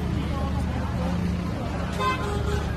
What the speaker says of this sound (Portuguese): Olha, é buzina